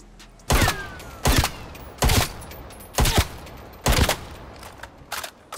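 Rifle gunfire in Call of Duty Cold War, five loud, sharp shots spaced at a steady rhythm about a second apart, with a quieter trailing burst at the end over low background hum.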